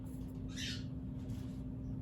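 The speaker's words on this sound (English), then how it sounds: "that's Raphael, my wife's bird" A pet bird gives a single bright, loud call about midway through, heard indoors over a steady low hum, with a couple of fainter chirps afterward.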